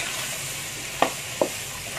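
Winged beans stir-fried in a pan with salt, giving a steady broadband sizzle and hiss, broken by two sharp clinks of the spatula against the pan.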